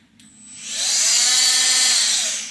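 A Makita TM30DZ 10.8V CXT oscillating multi-tool running with no blade fitted, spinning up quickly into a steady, loud, close buzzing whine that holds for about two seconds before easing off.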